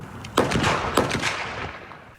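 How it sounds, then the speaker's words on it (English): Real gunfire captured on a cell phone during a police shooting incident: two sharp, loud reports about half a second apart followed by several quicker shots trailing off, with no voices. "the real-life gunfire was very different than the true crime shows she regularly watches"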